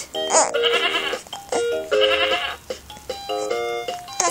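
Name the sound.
sheep bleating from toy turntable radio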